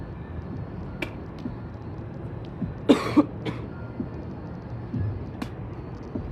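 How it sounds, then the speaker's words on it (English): A person coughs up mucus in a couple of sharp, close hacking bursts, followed by a rougher throat-clearing rasp, with a few faint clicks and a low hum behind. "I gotta cough this mucus out."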